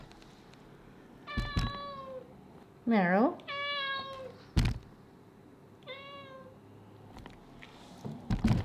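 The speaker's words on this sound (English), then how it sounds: "every time she sits and meows and meows and meows until I pick" A house cat meows repeatedly near the microphone, several drawn-out cries spaced a second or two apart amid a few soft thumps, while someone speaks briefly.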